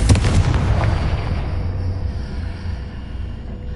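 In Hogwarts Legacy, a Confringo fire spell explodes with a sudden loud boom that rolls into a rumbling, fading tail lasting a few seconds.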